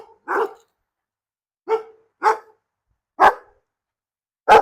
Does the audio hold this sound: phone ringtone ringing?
no